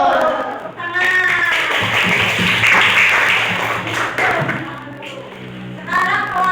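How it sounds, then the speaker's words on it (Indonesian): Schoolchildren clap their hands in an elementary classroom, a loud burst of rapid, overlapping clapping and thumps, with young voices shouting and talking over it. "Tepuk tangan."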